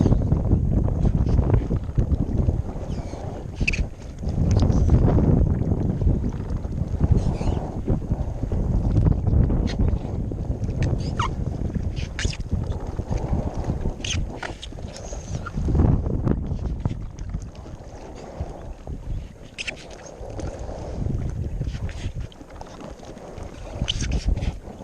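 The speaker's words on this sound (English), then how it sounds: "The wind's pretty brusque" Strong wind buffets the microphone while an inflatable kayak is paddled on Lake Somerville, Texas, giving a continuous loud low roar with gusty swells and faint water splashes and paddle knocks, with no talking.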